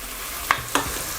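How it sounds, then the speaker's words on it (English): Onions fry with Mandi spice mix in a pan for lamb mandi, a soft steady sizzle with two sharp scraping strokes of a stirring utensil, close and without talk. "Just fry off everything now."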